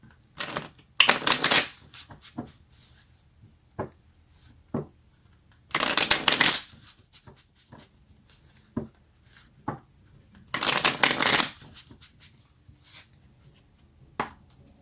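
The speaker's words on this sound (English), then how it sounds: "Let's get a few more cards." Tarot cards are shuffled by hand in several brisk riffling bursts, separated by quiet pauses filled with single taps and soft card handling, close up with no talk.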